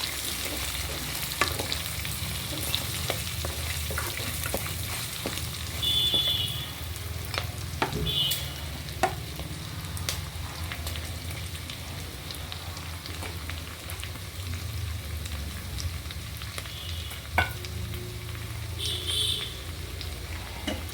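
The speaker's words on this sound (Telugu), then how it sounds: "జీడిపప్పు, బాదం పప్పు వేసి జీడిపప్పు బాదం పప్పు గోల్డ్ కలర్ వచ్చే వరకు బాగా ఫ్రై చేసుకోవాలి." Cashews and almonds fry in a pan for a millet and moringa khichdi, giving a steady, soft sizzle with faint scattered crackles and stirring. The sound stays fairly quiet and continuous throughout.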